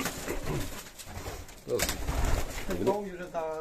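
A male domestic pigeon at a breeder's loft coos in repeated low throaty phrases nearby, mixed with someone talking over the calls.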